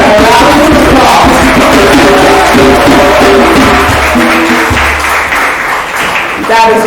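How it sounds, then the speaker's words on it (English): Audience applause and cheering at a mentorship programme award presentation, loud and continuous, with voices and a few shouts mixed into the clapping. "So please give her a round of applause."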